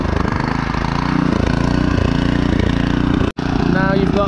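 A rotavator tiller's small petrol engine runs loud and close with a steady rough drone, dips abruptly for an instant, then comes straight back at full revs.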